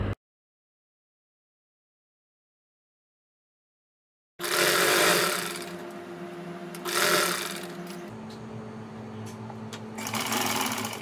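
Sewing machine stitching lace along a fabric edge: after about four seconds of silence, a steady close mechanical whir with rhythmic needle chatter runs continuously, swelling slightly in a few spots.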